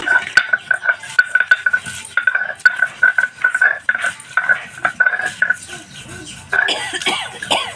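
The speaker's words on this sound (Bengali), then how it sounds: "এগুলোকে এখন আমি শিলের মধ্যে বেটে নেব।" Garlic, black cumin, dried red chillies and green chillies are ground on a flat stone slab. Steady rhythmic scraping and knocking strokes sound close by, repeating quickly for several seconds.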